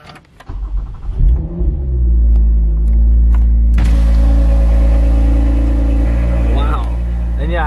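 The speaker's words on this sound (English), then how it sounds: "Let's get this little cold start going." Toyota TRD truck with a custom quad exhaust cold-starting: a few clicks, the starter cranking, then the engine catching with a loud rev and settling into a deep, steady, rumbling fast idle, close and dominant throughout.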